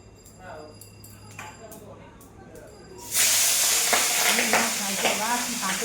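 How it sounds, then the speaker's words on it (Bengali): Fish frying in very hot oil bursts into a loud, steady sizzle partway through, following quieter kitchen sounds and faint talk. "ওই মাছগুলো বসাই তেল গরম হয়ে গেছে অনেক"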